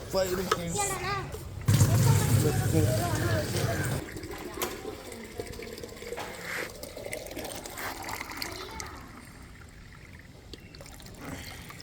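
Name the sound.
water being filled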